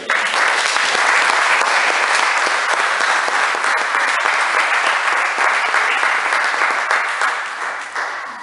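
A church congregation applauding, a dense, loud, continuous clapping that holds steady for several seconds and tapers slightly at the end, with no talk over it.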